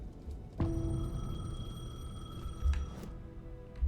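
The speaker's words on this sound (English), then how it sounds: "The payphone was ringing." A payphone rings in Alan Wake II. A bright electronic ringing tone starts abruptly and holds steadily for a few seconds over a low, dark ambient rumble, then cuts off.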